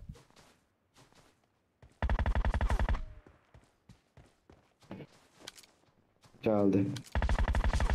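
PUBG Mobile gunfire: sparse single shots and footsteps, then loud sustained automatic bursts, close and harsh, with someone speaking briefly in between.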